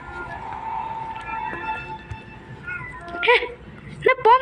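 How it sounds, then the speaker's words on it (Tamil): A cat meowing in the horror video game Granny, with a couple of sharp, rising meows near the end over people talking in the background. "கைஸ் பூனை பேசுது."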